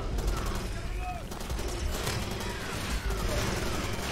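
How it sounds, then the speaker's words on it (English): Steady gunfire aimed at the player in Far Cry 2, with repeated bursts and single shots over constant background game noise and faint speech. "I cannot see who's shooting me."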